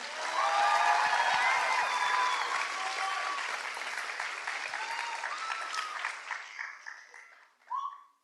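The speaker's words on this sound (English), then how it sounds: "Can we please get a big round of applause for our incredible SASA 2025 e-board?" An audience at a cultural show applauds and cheers for the event board. Loud dense clapping with a few whoops tapers off over about eight seconds, ending in scattered claps.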